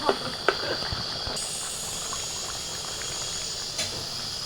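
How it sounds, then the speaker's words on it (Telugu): Pitiki pappu curry bubbles in a pot, a steady close hiss of boiling liquid running throughout, with a few light knocks near the start. "చూడండి ఫ్రెండ్స్ ఇంకా ఉడుకుతూ ఉంది"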